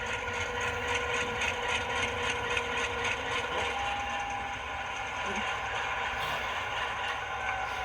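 A ScaleTrains AC4400CW model locomotive runs with its rotating bearing caps turning, giving a fast, even mechanical ratcheting whir with a faint motor hum, close and continuous throughout.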